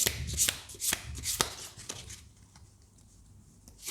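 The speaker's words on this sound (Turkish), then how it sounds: "Tarotumuzu karıştıralım." Tarot cards being shuffled by hand, a few quick crisp riffling and tapping bursts close to the microphone, then tapering off into quiet, with no talking.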